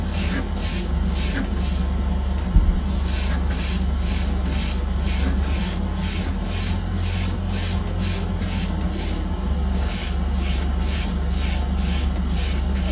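Airbrush spraying base coat onto a Greek style vase, a steady close hiss of air and paint broken by regular short pulses, running continuously with a brief pause partway through.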